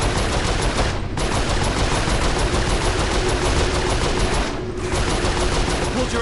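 Sustained turret fire in the video game Saints Row IV roars loud and continuous, a dense hammering stream that briefly breaks twice before resuming.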